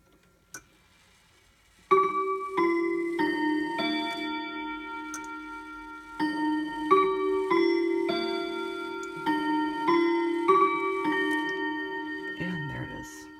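An antique Howard Miller triple chime mantel clock strikes the half hour. After a single soft click in near silence, it plays a sequence of ringing, sustained bell-like tones, close and clear.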